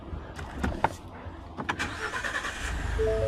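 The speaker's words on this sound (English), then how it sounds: "I start the truck up" A Ford F-150 pickup's engine cranks and starts with a short burst of starter whir, then settles into a steady idle with a few clicks and knocks nearby.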